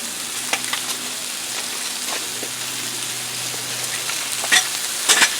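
Chicken wings sizzle steadily on a Blackstone flat-top griddle, a close, constant frying hiss with occasional sharper pops and crackles.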